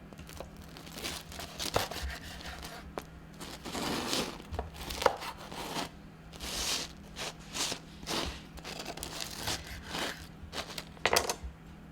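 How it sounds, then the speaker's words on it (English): A knife cuts through an Ossetian pie filled with halloumi, feta and wild garlic, making close crackling crust crunches, crinkles and soft taps that come in irregular bursts, with no talking. "I'm just gonna cut it now"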